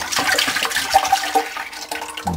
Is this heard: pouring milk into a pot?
yes